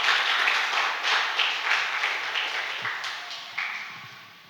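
A church congregation claps loudly in a steady wash of applause that swells in waves and gradually tapers off, with little talk.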